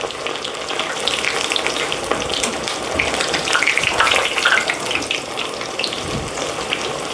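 A thin, pounded steak coated in panko fries in hot oil, giving a dense, continuous crackling sizzle that stays loud and close throughout with no pauses.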